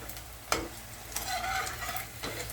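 Pakoras fry in hot oil with a soft continuous sizzle, broken by a few sharp clicks of a utensil against the pan, heard close and fairly quiet.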